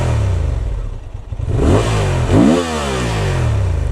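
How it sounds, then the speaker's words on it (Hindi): A Honda Transalp 750 twin-cylinder motorcycle exhaust barks loud and close as the engine is blipped, rising in revs, falling back, then rising again before settling to a steady throbbing idle. "Just listen to the exhaust note."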